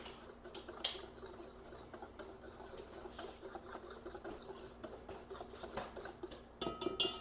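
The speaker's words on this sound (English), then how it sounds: "we are going to dump in our baking powder, baking soda, and salt, and we want to mix that in" Dry ingredients being stirred by hand into whole grain einkorn flour with baking powder, baking soda and salt, a steady soft scraping and tapping of a utensil against a bowl, close and continuous with no talking.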